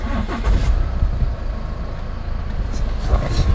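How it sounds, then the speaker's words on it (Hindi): A 2015 Jaguar XF 2.2 diesel turning over and catching, a brief starter burst giving way to a steady mid-pitched idle with a few small revs, heard up close outdoors. "ये गाड़ी को मैंने कर दिया स्टार्ट"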